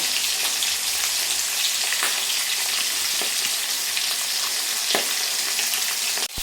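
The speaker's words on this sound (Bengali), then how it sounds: "তো এখানে মাছের মাথাগুলো পুরো লাল করে ভেজে" Rohu fish heads fry in hot oil with a loud, continuous sizzle. Small pops and crackles break through the sizzle now and then, close up and with no voices.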